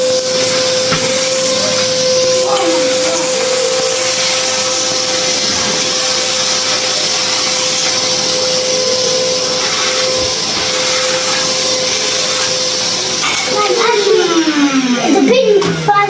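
Hoover vacuum cleaner running steadily and loudly throughout while building mess is cleaned up, a constant drone with a strong tonal whine and shifting pitch toward the end as debris is sucked in.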